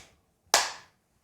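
A single sharp, loud clap from a small group clapping in unison for the camera on cue, a sudden burst that decays quickly into silence.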